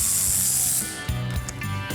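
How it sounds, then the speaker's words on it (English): Socket ratchet clicking while removing axle nuts on a 1971 Plymouth Cuda 340 convertible under restoration, a brief hiss followed by a few quick, close ratchet clicks. "that's where you run your socket through to take the 5 nuts off that hold the axle in place."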